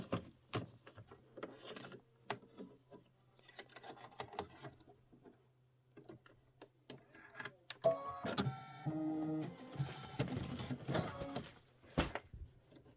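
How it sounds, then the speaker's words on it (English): A Kimberbell embroidery machine stitching the placement outline for a pillow's house-roof design, a steady mechanical whirring with rapid needle patter and occasional clicks that grows louder and denser partway through, with no voices. "I'm going to do the placement stitch for the roof."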